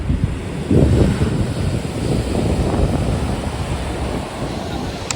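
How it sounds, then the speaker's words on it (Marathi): Sea waves wash onto a quiet village beach at Tambaldeg, Devgad: a steady, close roar of surf with wind buffeting the microphone and one stronger swell breaking early on. "लाटा बघा, लाटांचा आवाज."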